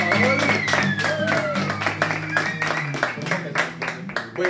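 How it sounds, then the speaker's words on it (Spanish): Studio audience clapping to welcome a guest band on a Spanish-language music show, with scattered claps over a sustained musical backing of held tones and sliding pitches, moderately loud. "Así que un aplauso, por favor."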